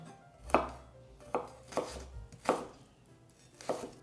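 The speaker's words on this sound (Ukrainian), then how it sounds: "Тепер беремо ніж і нарізаємо наш чесник та цибульку таким невеличким кубіком." Knife chopping garlic and onion into small cubes on a cutting board, five separate thuds spaced irregularly, quiet and close with no talking.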